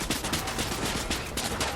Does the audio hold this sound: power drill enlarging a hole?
no